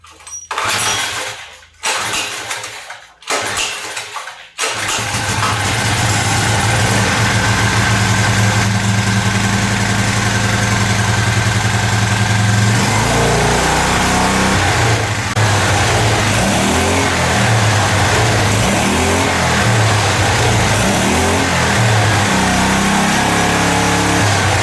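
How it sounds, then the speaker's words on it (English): A mini bike's small engine sputters through several short start attempts, then catches and runs steadily, idling with a continuous mid-pitched drone and occasional revving swells, close and loud throughout. "So let me throw some gas in this thing and try and start it up."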